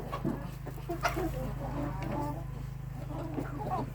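Roosters cluck softly and continuously over a low steady hum, with short bursts of clucking from several birds close by.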